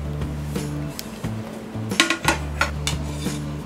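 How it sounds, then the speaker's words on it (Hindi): A clay cooking pot's lid is lifted off after soaking brown top millet, giving a few close clinks and scrapes of earthenware over a low steady hum. "हम ये लिड हटा देते हैं"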